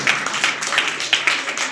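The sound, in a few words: audience applause, clapping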